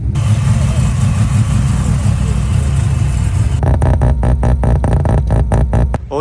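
Rotary-engined sleeper car with a 7-speed gearbox idles close by, a loud, steady, lumpy engine drone that shifts partway through into a choppier, pulsing burble of rapid rhythmic pops.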